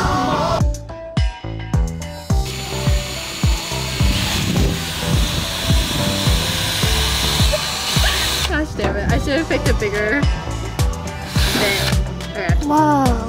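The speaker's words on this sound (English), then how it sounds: "I'm gonna just drill through here and hope it works to make" A power drill whirs and grinds in loud bursts while drilling through wood on a van roof, stopping and restarting repeatedly, close up, with some clattering in between.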